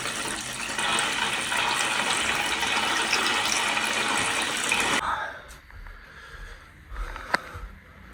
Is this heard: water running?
yes